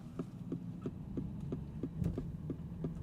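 A 2025 Aston Martin DBX 707 engine idling with a steady low hum and evenly spaced throbbing pulses, roughly three per second, giving a heartbeat-like rhythm; close and moderately loud, with no talking.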